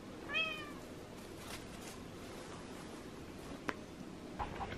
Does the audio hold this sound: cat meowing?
yes